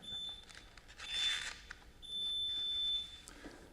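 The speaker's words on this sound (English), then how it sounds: "when the buzzer goes, you can start talking" An electronic buzzer marks the start of a presentation, sounding as a couple of steady, fairly quiet tonal beeps separated by a short gap in a room.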